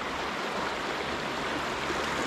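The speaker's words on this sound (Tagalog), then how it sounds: "Malakas kasi yung current ng tubig." A shallow, cold river runs with a strong current, a loud continuous rushing and gurgling roar close by that fills the whole clip with no pauses and no speech.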